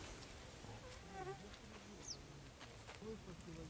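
Mosquitoes hum around a hunting hide in a cornfield during a wood pigeon hunt, a faint, thin buzzing texture mixed with scattered bird chirps and light outdoor background noise.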